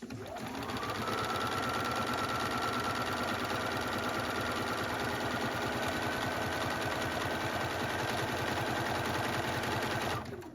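A sewing machine runs a lettuce hem on stretchy fabric for nearly ten seconds without stopping, a steady close mechanical whir from start to finish.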